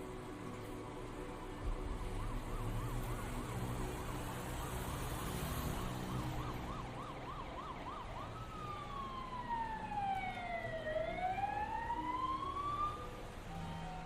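An ambulance siren wails steadily, first in a fast rapid warble, then switching to slow rising and falling sweeps, sounding moderately distant over a constant street background with no talk.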